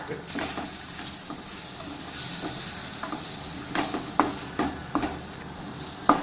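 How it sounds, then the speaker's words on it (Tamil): Drumstick pieces with coriander and chilli powder masala sizzle steadily in hot oil while being stirred, with scraping clinks of the spoon against the pan, sharper toward the end; close and continuous, no talk. "ஒரு டேபிள் ஸ்பூன் மிளகாய்த்தூள் ஆட் பண்ணி நல்லா கிளறி விட்டுக்கலாம்"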